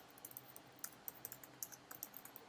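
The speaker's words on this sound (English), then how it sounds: "lot of typing, actually." Computer keyboard typing while coding, a quick irregular run of soft, crisp key clicks, faint and close, with no voices.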